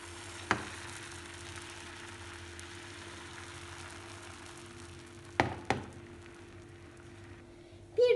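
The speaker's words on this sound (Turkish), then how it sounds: "Çırpmış olduğum yumurtayı pişireceğim. Tavaya alıyorum." Whisked egg poured into a hot pan to cook for a lentil crepe, giving a soft, steady sizzle with a faint hum in the background, broken by a few sharp clinks of utensils against the pan.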